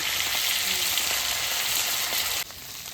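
Hilsa fish fries lightly in hot oil, giving a steady, dense sizzling hiss throughout that drops slightly in level just before the end.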